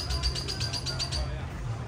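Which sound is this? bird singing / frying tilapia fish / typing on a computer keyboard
bird singing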